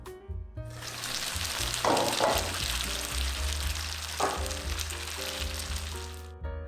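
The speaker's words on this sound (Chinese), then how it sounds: "最后盖上盖子，用中火边煮边煎12分钟左右。" Fennel and egg buns pan-frying and simmering in broth under a lid over medium heat in a flat pan, a steady loud sizzle and bubbling hiss lasting several seconds with a low hum underneath and no talk.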